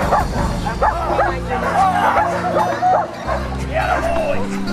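A police K-9 service dog barks and yips repeatedly at an outdoor dog expo demonstration, loud and fairly close, with excited whimpers mixed in and a low crowd murmur underneath.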